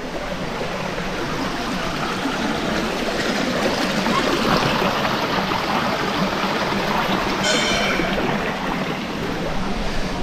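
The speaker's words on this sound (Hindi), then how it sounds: "यहाँ से देखिए पानी पूरा बहते हुए जा रहे हैं" Water rushes steadily down a stream beside a Shiva temple, a dense, continuous broadband rush heard close and fairly loud, with no voices over it.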